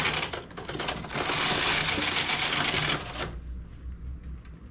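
A knitting machine carriage slides across the needle bed with a dense rattling clatter for about three seconds, then stops, leaving a low hum.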